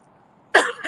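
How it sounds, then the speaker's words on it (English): One sharp, close cough from a person out on a morning walk, following a brief near-silent lead-in. "excuse me for coughing"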